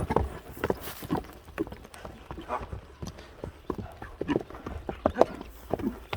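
A horse running and kicking up dust, its hooves striking in a quick, uneven clip-clop close by, with faint voices underneath.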